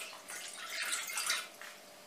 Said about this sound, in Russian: Вначале наливаю воду.